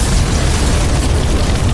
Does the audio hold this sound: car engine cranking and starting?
no